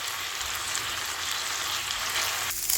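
Chicken frying in a pan over medium-high flame, a steady dense sizzle running continuously and close throughout, growing slightly louder near the end.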